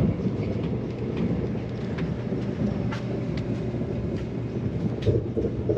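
Interior of the Russian Sapsan high-speed bullet train riding toward Moscow from St Petersburg: a steady loud low rumble and rolling hiss with faint occasional clicks, continuous throughout and without speech.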